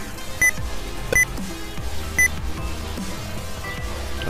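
Repeated short electronic beeps in a Minecraft 1.16 survival world, three brief bright pulses spaced about a second apart over a busy background of game music and tones.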